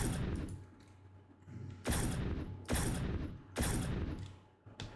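A scatter laser weapon fires in a Unity first-person shooter game, producing about four loud, bursting blasts spaced roughly a second apart, each with a hissing crackle that trails off.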